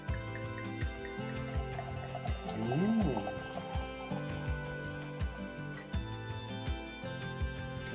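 Fizzy homemade fake Iron Brew cider pours into a glass with a short rising gurgle and fizz, while someone talks over it.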